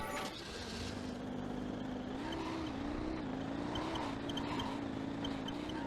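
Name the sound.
racing vehicle engine in Jak 3 video game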